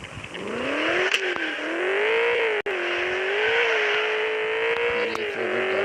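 A Ford Mustang muscle car in a racing video game accelerates hard, its engine note climbing through gears with a steady, loud synthetic whine and roar, briefly cutting out once before continuing, no voices over it.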